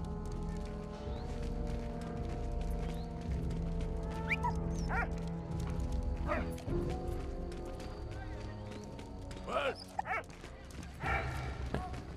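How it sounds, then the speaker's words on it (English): A dog barks and yips in the WWI video game Valiant Hearts: The Great War, short sharp barks scattered over a steady musical and ambient game background, alongside footstep-like clatter. "I hope that nobody realized that there was a dog walking around with a stick of dynamite."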